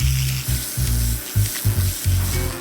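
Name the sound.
pressure washer blasting scales off carp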